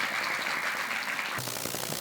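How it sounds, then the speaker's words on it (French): Applause from an audience at a stage event on 8 March 2023, greeting a speaker invited on stage, a steady dense wash of clapping that shifts to a brighter, closer texture partway through. "Applaudissez très fort pour vous"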